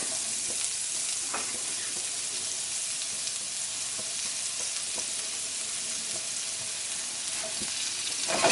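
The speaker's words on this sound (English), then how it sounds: "Let that saute for a while" Leeks sautéing in a pan, a continuous close sizzle with occasional faint clicks of stirring, steady throughout and swelling slightly at the end.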